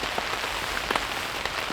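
Heavy rain drums densely and steadily on a tarp shelter during a winter thunderstorm, a close, loud, continuous patter with scattered heavier drops and no voices.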